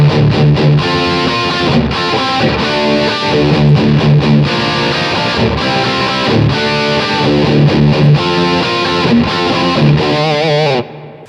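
A heavily distorted electric guitar in drop D tuning plays a chunky, low-tuned riff with steady rhythmic chugging, loud and continuous, ending with a sustained ringing chord.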